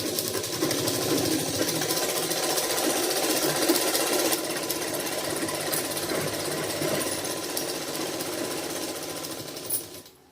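Sewing machine stitching a straight seam on a salwar, a fast steady mechanical chatter running continuously at close range, easing slightly before stopping near the end.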